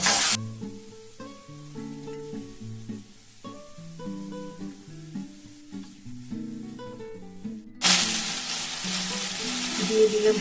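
Ground spice paste hits hot oil with five-spice seeds and a bay leaf for a tomato, poppy-seed and cauliflower curry. A loud sizzle flares briefly at the start and returns strongly near the end, with background music playing throughout.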